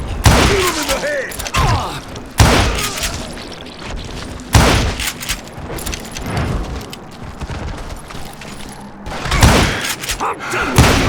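Gunfire and explosions in the Western shooter Call of Juarez Gunslinger, loud repeated booming shots and heavy impacts with near-constant action noise, and game voices talking between the blasts.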